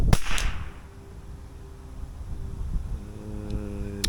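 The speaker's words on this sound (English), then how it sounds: "let's try a couple of sighters here and see if this semi-auto is even going to be suitable" A semi-automatic rifle fires sighter shots at an outdoor range. One sharp, loud crack rings out at the start, followed by a low background hum and a faint later click.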